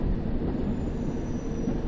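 A London Underground train rolls into Paddington station in a train simulator game, giving a steady, heavy mechanical rumble with no talk.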